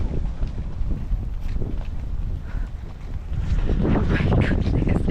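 Low, rumbling buffeting of wind hitting the microphone fills the clip, gusting harder toward the end.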